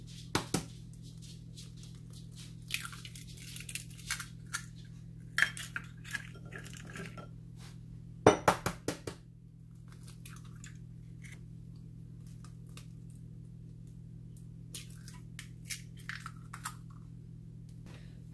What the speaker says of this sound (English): I'm going to go ahead and crack these eggs